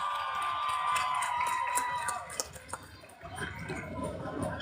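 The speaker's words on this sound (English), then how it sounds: "Keep the applause going, ladies and gentlemen" Audience applause at a high school graduation ceremony honoring an agricultural science award winner, a steady crowd clapping and cheering at moderate distance, easing slightly midway then continuing with scattered whoops.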